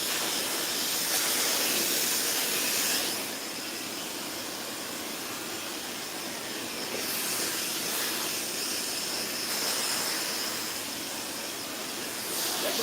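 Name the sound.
blow dryer drying hair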